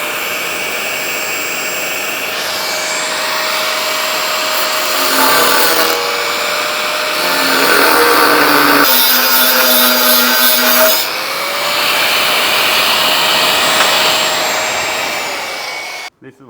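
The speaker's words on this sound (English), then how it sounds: "we're just going to run the little 5-inch grinder and cut these parts off this auger" A 5-inch angle grinder cuts parts off a metal auger, a loud steady high whine with shifting pitch and bursts of rough grinding noise as the disc bites, running continuously for about sixteen seconds before stopping.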